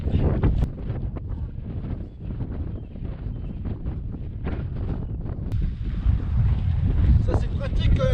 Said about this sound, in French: Il y a beaucoup de vent, je pense que vous m'entendez pas.